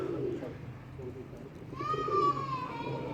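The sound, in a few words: pigeons cooing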